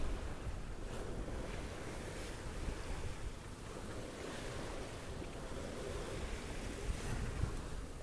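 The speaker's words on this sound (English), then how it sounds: "But a nice strong wind to push us south." Strong wind roars across the microphone while waves wash and surge around a sailboat at sea, a steady, dense, close rush of noise with no voices.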